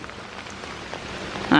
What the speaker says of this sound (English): it's not pouring, but it's a moderate rain